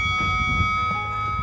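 An electronic device gives off a steady, continuous buzzing tone, clear and sustained over low background rumble.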